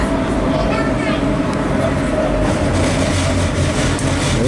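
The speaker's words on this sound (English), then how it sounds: "This train will go non-stop for a good 35 minutes." Steady rumble of a train running non-stop on a rail trip in Spain, continuous and fairly loud throughout with a low rolling drone and faint clatter, no clear words spoken.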